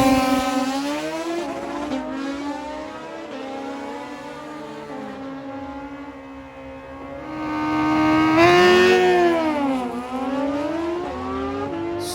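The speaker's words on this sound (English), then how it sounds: "So many great Hayabusa and GSXR 1000 battles all day long" Suzuki Hayabusa and GSX-R 1000 sportbikes race past, their high-revving engines rising and falling in long sweeping pitch changes, loud and close, with a second bike swelling in near the end and no talk over it.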